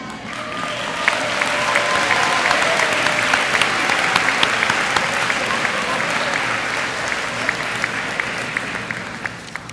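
Sustained, dense applause from a large audience at an eighth grade commencement, steady and loud throughout with a few brighter individual claps standing out near the front.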